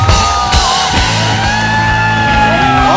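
A studio audience at a talk show cheers and shouts loudly for the Laalo team, with sustained whooping and yelling and tonal music or sound running underneath.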